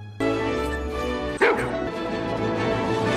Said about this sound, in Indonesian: tiba-tiba seekor anjing menggonggong